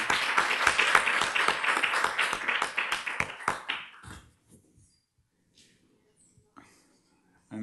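A lecture audience claps for the translator at a talk, with a few seconds of brisk clapping that tapers off into near silence.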